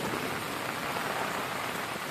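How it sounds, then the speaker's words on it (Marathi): Steady, dense monsoon rain falling without a break in the Konkan, a close, even hiss of drops on surfaces with no voices. "बघा पाऊस अजून पण चालू आहे"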